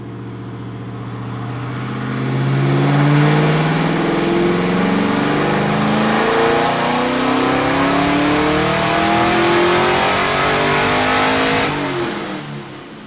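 A boosted Corvette C6Z engine, missing on the passenger side, winds up through a full dyno pull, its loud rising roar climbing steadily in pitch for about ten seconds before easing off.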